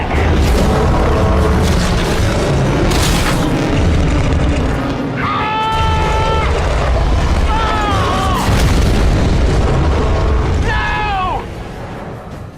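Weapons fire and heavy explosions from an alien crash-landing action film boom repeatedly and loudly, with shouted voices and high wailing tones mixed into the battle before the noise drops off near the end.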